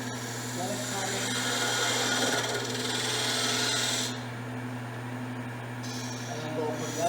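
Steady broadband cutting noise from a woodturning gouge riding the bevel on a spinning lathe workpiece, shaping a cove, loud and continuous for about four seconds before easing to a quieter hum of the running lathe.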